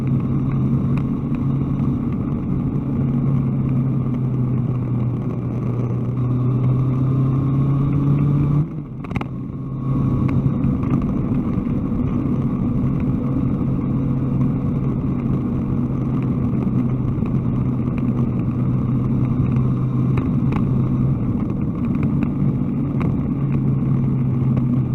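A motorbike rides a winding road through a lovely couple of bends, its engine a steady, close drone that holds an even pitch throughout with a brief dip partway through, no talking.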